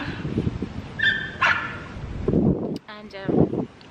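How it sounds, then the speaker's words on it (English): Dog barking a few times in the background, with short sharp yelps and a whimpering whine, mixed with someone talking nearby. "There's a dog behind me."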